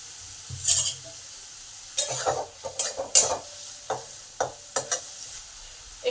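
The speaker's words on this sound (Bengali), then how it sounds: "পেঁয়াজটা যাতে তাড়াতাড়ি ভাজা হয় তাই অনুযায়ী নুন দিলাম" Chopped onion with salt frying in a pan: a continuous sizzle punctuated by repeated close spatula scrapes and clinks, sparse at first, then a busy irregular burst of stirring, no voices.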